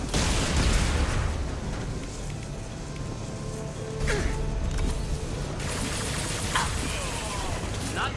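In Mass Effect 2, a loose fuel deck is shot down and explodes amid gunfire, giving a dense, loud wash of blasts, crackling debris and rumbling noise that runs throughout.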